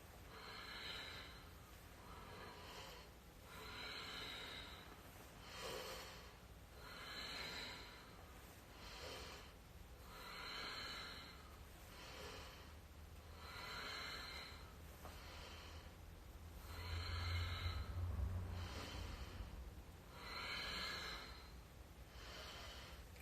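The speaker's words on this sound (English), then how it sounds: "this is when my Ujjayi breath really comes in" Slow, steady Ujjayi breathing during a yoga practice, with about ten long, soft, throaty breath cycles in an even rhythm, close and quiet with no talking.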